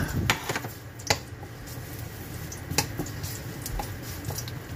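Ginger sautéing in a pan gives a soft steady sizzle, with a few sharp clinks and taps of a utensil against the pan scattered through it.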